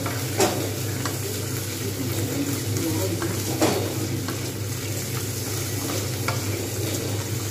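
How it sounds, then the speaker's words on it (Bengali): Potatoes and stems fry in a pan for a sago khichdi, a steady crackling sizzle under intermittent scrapes and knocks of a stirring spoon against the metal, with no voices. "এগুলো আমি কিন্তু প্রত্যেকটা ভালো করে ভেজে নেব। বেশ কিছুক্ষণ ধরে আমি কিন্তু এগুলো ভাজবো।"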